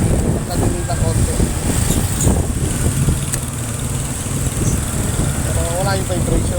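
A motorcycle engine runs steadily after its air adjustment, a rough, close mechanical drone that continues throughout while someone talks over it.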